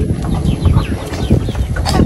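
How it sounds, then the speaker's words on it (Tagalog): 100-day-old chickens cluck in a noisy farmyard, their chirpy calls scattered over a constant rumble of wind and movement. "tapos ito yung aming 100 days na chicken."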